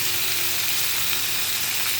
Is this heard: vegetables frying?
yes